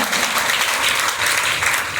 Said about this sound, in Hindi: कंचन रामाजी सर के लिए जोरदार ताली होना चाहिए।